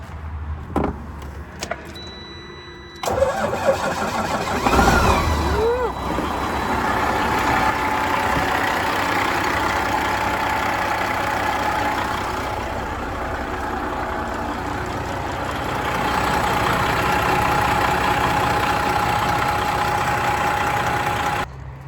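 A vehicle engine cranks and catches about three seconds in, then settles into a steady, close idle that hums on for the rest of the clip with no talking.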